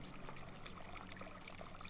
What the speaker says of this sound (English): What's with her in the running water?